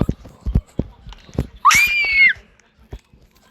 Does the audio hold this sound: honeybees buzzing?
no